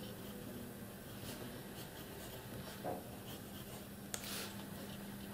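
Parker fountain pen nib scratching across paper, a steady close, soft rasp running throughout with faint dry strokes and a brief tap near the end.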